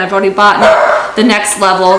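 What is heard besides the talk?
dog barking in the background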